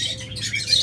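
Caged pet lovebirds offered for sale give short high chirps and scratchy tweets over a low background hum, fairly close, in a brief burst with no one talking.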